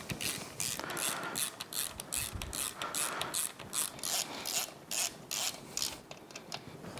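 Quick, rhythmic clicking of a ratchet wrench tightening bolts on a Yamaha F225 outboard powerhead during a bottom-end rebuild, close and fairly quiet, with short bursts of clicks and brief pauses between strokes.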